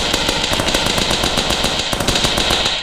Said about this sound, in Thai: อันต่อไปมันคือการถูกยิงด้วยอาวุธปืน อาวุธ ออโต้